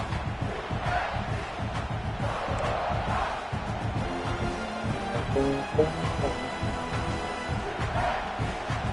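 Stadium crowd in a college football video game, FIU Panthers at Ohio State, a steady loud roar with chanting swells throughout, mixed under game music and announcer talk.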